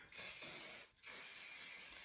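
Two close bursts of hairspray hiss out, a long one then a short pause and another sustained spray.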